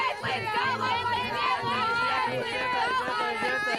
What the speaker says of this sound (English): They are cheering for him.